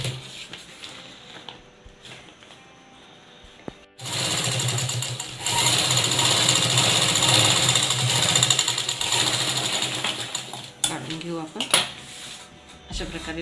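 A sewing machine stitches a zipper onto a cloth document cover; a quiet stretch gives way at about four seconds to a loud, steady mechanical whir that runs for several seconds, then tapers into brief clatter.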